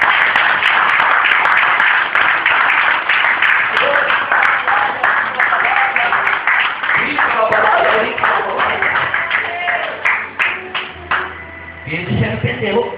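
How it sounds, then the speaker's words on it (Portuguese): A church congregation claps in rhythm for Jesus during a worship service, with steady repeated claps mixed with voices and music that thin out toward the end. "Palmas para Jesus."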